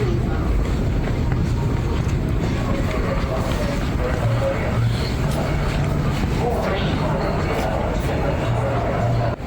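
An M113 armored personnel carrier engine runs as a steady, loud low rumble with constant drone throughout, close by, with voices talking over it.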